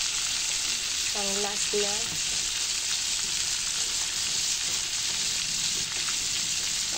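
Batch of chicken pieces deep-frying in hot oil, a steady loud sizzle filling the whole stretch, with a brief spoken phrase early on.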